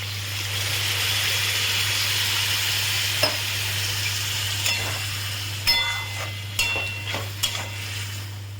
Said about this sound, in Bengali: এবারে আমি এতে চিংড়ি মাছটা দিয়ে দিচ্ছি।